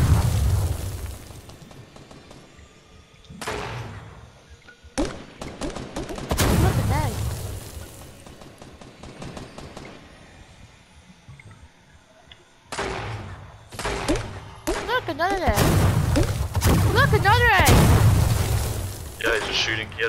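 Egg launcher explosions in a shooter video game, repeated loud booms and bursts in uneven clusters with quieter gaps, mixed with other game effects.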